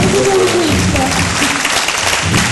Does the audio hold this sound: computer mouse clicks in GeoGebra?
no